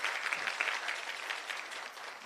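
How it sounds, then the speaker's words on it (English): Conference audience at a women's day celebration clapping steadily, a dense, fairly close patter of many hands with no voices. "I think you deserve a beautiful, conscious round of applause."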